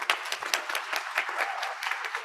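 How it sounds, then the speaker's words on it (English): Steady applause from an audience at a youth community day prize presentation, many hands clapping in a dense, even patter for a couple of seconds with no talking over it. "So round of applause."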